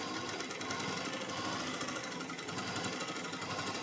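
A sewing machine runs steadily and continuously, stitching an embroidery blouse with a dense, fast mechanical whirr and no pauses.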